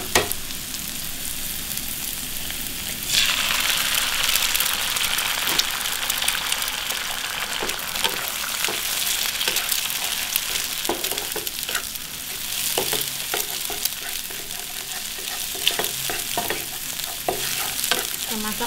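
An egg frying and being stirred in a pan with fragrant aromatics, a steady loud sizzle that jumps up sharply as it hits the oil, with repeated scraping and clicking stirs throughout.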